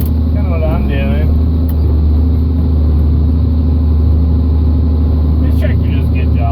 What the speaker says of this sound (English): This tractor does a good job on it.